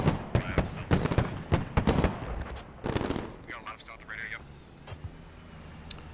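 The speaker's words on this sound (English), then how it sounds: "Yep, Aslav's gonna start opening fire." In the video game Squad, an ASLAV armored vehicle opens fire during village fighting with loud, sharp bursts of cannon and gunfire in the first half, then quieter distant shots and rumble.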